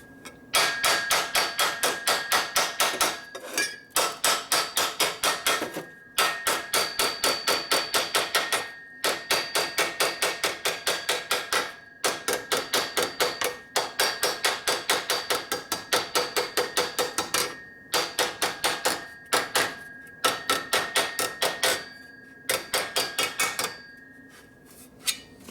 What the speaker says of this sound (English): So we just beat this pipe around, see if we can get a little bit tighter fit on this part of the pipe.